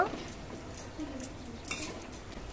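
Sweet goja pieces made from flour frying in hot oil in a pan, flipped and turned with a metal utensil, giving soft scraping and light clinking over a quiet sizzle, with faint voices in the background.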